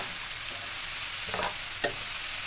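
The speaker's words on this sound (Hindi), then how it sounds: "और अब हम इसको मिक्स कर देंगे दोनों चीज़ों को।" Fried potatoes and eggplant stirred together in a pan under a dense, steady sizzle, with two soft scrapes of the spoon toward the end, close and even, no voices.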